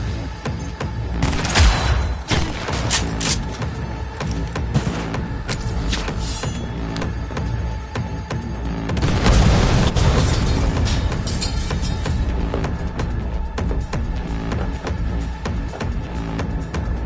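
Dense gunfire and explosions in the video game Cyberpunk 2077, with rapid overlapping shots and heavy booms at close range, loudest bursts around the start and middle, continuous throughout without talk.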